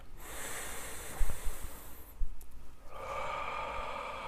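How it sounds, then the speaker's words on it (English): One deep breath during a morning grounding meditation: a long airy inhale close to the microphone, a brief pause, then a soft hissing exhale, with no talking. "we're going to take a deep breath"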